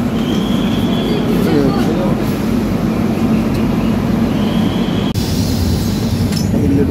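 Passenger train pulling slowly out of Eluru station, heard from inside an AC coach as a loud continuous rumble of wheels on rails with a faint high squeal and one sharp clank.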